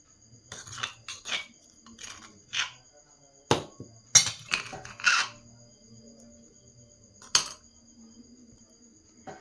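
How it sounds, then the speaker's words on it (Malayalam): A pestle pounds garlic chutney with salt in a mortar, giving irregular sharp knocks and gritty crushing scrapes in uneven bursts, close and fairly quiet. "ഇനി ഞാനിതൊന്ന് ചതച്ചിട്ട് വരാം."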